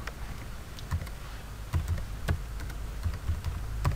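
A slideshow name being typed on a computer keyboard, a quick irregular patter of soft clicks and taps heard close up, with a faint buzz in the background.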